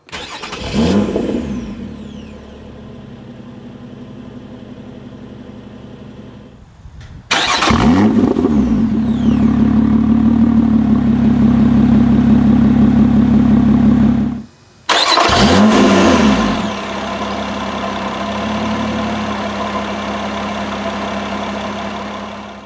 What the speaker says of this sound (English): hit the engine start button to the left hand side of the instrument cluster to go